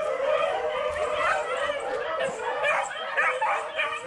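Hunting dogs on a Virginia rabbit hunt yip, bay and whine excitedly in a continuous, overlapping chorus at middle distance, with several high, rapid cries.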